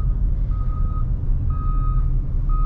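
A truck's reversing alarm beeps three times at a steady pace, each long tone ringing out over loud low road and engine rumble heard from inside a moving car.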